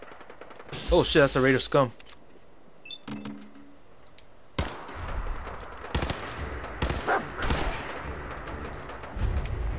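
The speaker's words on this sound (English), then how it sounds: "I hear a lot of gunshots." Gunfire in Fallout 4 cracks out in sharp, loud single shots and short bursts, spaced irregularly across the scene. Someone talks briefly over the first of them.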